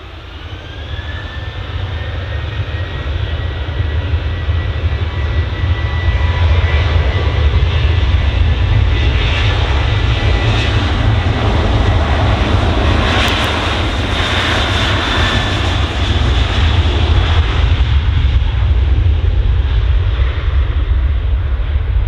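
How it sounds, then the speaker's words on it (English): A Ryanair jet airliner departs from runway 23 left with a loud, sustained engine roar that builds and holds steady, joined by a rising whine partway through, with no voices. "Okay, next departure, just lined up on 23 left,"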